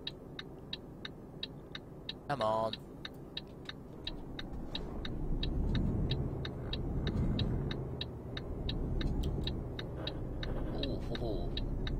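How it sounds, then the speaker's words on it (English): A truck's turn indicator in Euro Truck Simulator 2 ticks steadily and quickly throughout, layered over a low engine rumble, with someone speaking briefly. "the indicator clicking noise is doing my head in"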